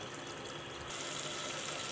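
Water poured into a pan of cooking masala for a spicy ivy gourd (tondli) curry: a steady hissing pour that grows fuller partway through and continues close by without voices.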